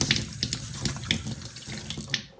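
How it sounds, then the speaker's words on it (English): A running tap splashes as hands are washed with soap at a sink, a close, steady stream broken by irregular wet splashes and rubbing, fading out sharply at the end, with no voices. "Make sure you get lots of white bubbles on your hands and wash for at least 20 seconds."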